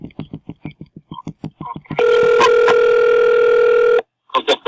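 Recorded phone call played back: a run of short rhythmic telephone beeps and tones, then a loud steady dial-style tone lasting about two seconds that cuts off abruptly, followed by a few brief voice fragments.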